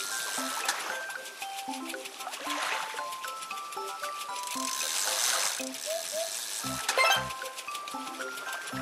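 Light water splashes and trickles in a children's number-tracing game, mixed with bright chimes and cartoon effect tones, all fairly quiet.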